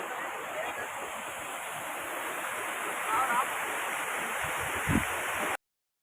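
Water rushing steadily at a stream beside a Durga temple, a continuous broadband roar with wind buffeting the microphone, holding constant for about five seconds before cutting off abruptly.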